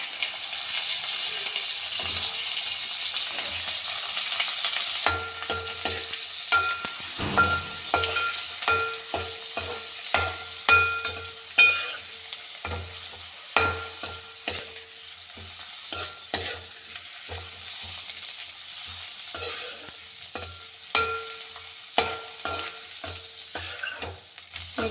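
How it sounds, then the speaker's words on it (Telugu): Dried fish sizzle in hot oil, a continuous crackling fry broken by frequent scrapes and taps of a spatula stirring the pan, close and moderately loud with no talk. "ఇందులో ఇప్పుడు ఎండు చేపలు వేస్తున్నాను. ఇదే ఆయిల్లో ఎండు చేపలకు కూడా వేపుకోవాలి."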